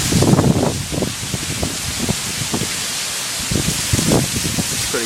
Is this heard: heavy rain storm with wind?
yes